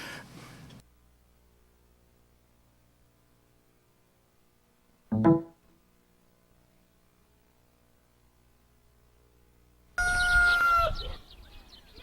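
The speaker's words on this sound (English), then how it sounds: "A surviving cockerel calls across a desolate landscape." A surviving rooster crows across a desolate, devastated farm landscape in Afghanistan, one loud clear crow standing alone after long near-silence, with a brief sharp noise earlier.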